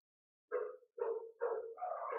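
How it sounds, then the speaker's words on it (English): Several dogs bark in a short series of about four loud, close barks, the last running together, with no talking over them. "Can you hear those dogs?"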